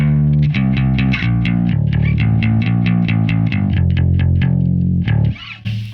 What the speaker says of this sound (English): two distinctly different bass sounds when I recorded this record